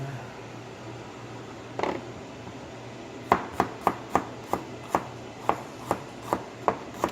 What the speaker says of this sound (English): And we got the jalapenos here.